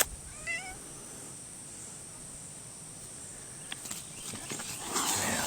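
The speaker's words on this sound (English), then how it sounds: "Cats are coming over here." Outdoor cats near a sweet corn patch give a few faint, brief meows early on, then chirping insects and light rustling fill a quiet rural background.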